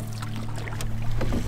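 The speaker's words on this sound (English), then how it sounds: "Just a short paddle across this really small lake." Canoe paddled across a small lake: soft water swishes and light dribbling from the paddle over a steady low hum, close and moderately quiet, with no talking.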